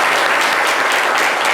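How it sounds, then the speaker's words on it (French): A short burst of dense, steady applause from a live radio show audience for a caller named Monsieur Toigui Germain. "applaudissements pour monsieur Toigui Germain"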